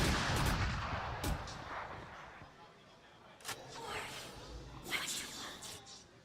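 Bursts of gunfire ring out in a Valorant pro match, with sharp shots clustered at the start and scattered later over a noisy game mix, under excited commentator talk.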